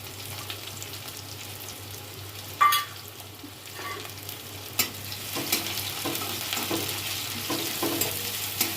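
Chopped onion and soybean frying in a pan, a soft steady sizzle with occasional stirring scrapes and clicks, close and moderately quiet with no talk.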